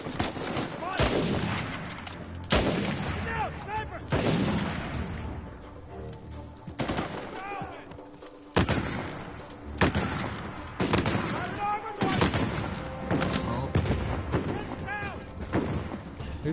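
Repeated heavy gunfire in a shooter game, sharp loud shots and bursts spaced irregularly, each trailing off into echoing decay, with speech mixed in between.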